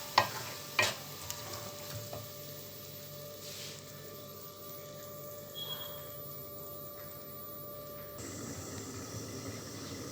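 Cauliflower and fish kurma in coconut milk stirred in a pan, a few sharp spoon knocks at the start, then a soft, continuous simmering sizzle with no voices.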